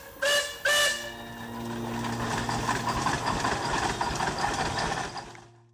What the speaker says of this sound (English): A steam engine, similar to the later Sawyer-Massey steam engine model